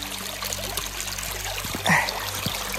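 A river flowing along a hiking trail, a steady close trickling and burbling of water with a brief louder splash midway, beneath a low hum.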